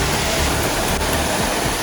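Full-flowing Jatashankar waterfall at Girnar near Junagadh, a loud, dense, unbroken roar of rushing water heard up close.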